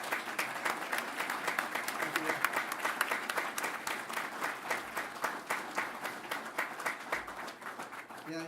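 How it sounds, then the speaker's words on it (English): Audience at an awards ceremony applauding steadily, rhythmic sustained clapping filling the room for several seconds at moderate distance, with some talk underneath. "you're all clapping"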